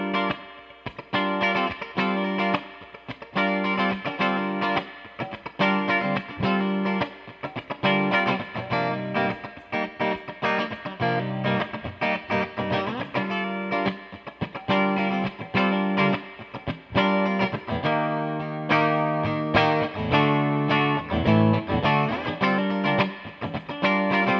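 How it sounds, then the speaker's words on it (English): Handmade Weller Stageliner electric guitar played on its bridge pickup, a steady run of distorted, bright picked notes and chords lasting the whole stretch with no talk. "And we're going to start with the bridge pickup."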